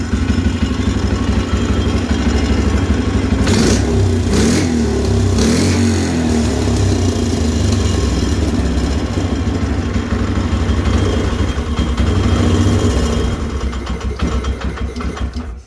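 A Polaris Sportsman 500 ATV engine idles high with the choke on, a loud, steady, close-up rumble with an even throbbing pulse that drops slightly near the end.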